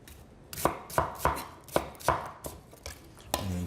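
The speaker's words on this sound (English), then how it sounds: "Now the onion, I'm going to cut that in half, and I'll quarter it, and then just chop that up." A knife chops an onion on a cutting board in a quick, fairly even run of about eight crisp, close-up knocks, heard on their own with no voice.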